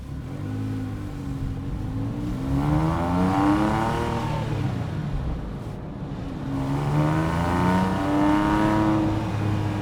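A Porsche 997.1 Carrera S with its sports exhaust switched on revs up twice, its engine note climbing and falling in two sweeping, throaty pulls, heard clearly and close.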